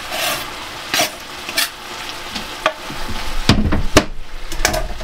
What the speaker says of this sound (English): So, in with our kidney. And in with our onions.